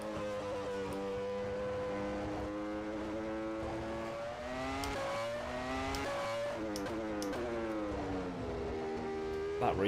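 A 1996 Formula One car engine in rFactor 2 screams steadily throughout, its pitch rising and falling through gear changes as it accelerates, with loud reverberant echo around it and no talking.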